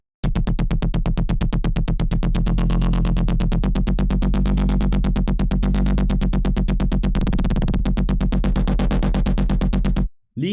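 A sustained, rhythmic lead synth preset modeled on a track, from a bass house sample pack, pulses rapidly and evenly at full volume for about ten seconds before cutting off abruptly, with no voices.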